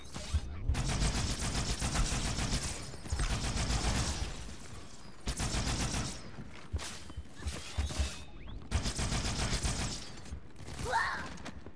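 The Needler from Halo 2 fires in several rapid bursts of crackling, rattling shots separated by short pauses, with a shattering, glassy edge to the volleys, moderately loud and close.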